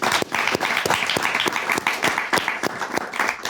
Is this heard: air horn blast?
no